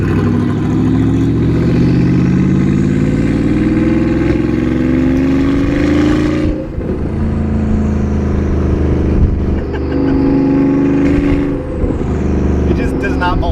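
A Porsche Panamera Turbo with a side-exit exhaust revs loudly and close by, rising in pitch in sweeping pulls with brief dips between, while people talk over it.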